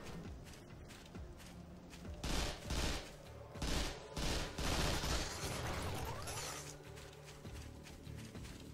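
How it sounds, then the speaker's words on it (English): Gunfire in the action shooter game Vanquish: several loud, rapid bursts of shots that rise and fall over a steady rumble of combat noise, with no talking. "What are you shooting?"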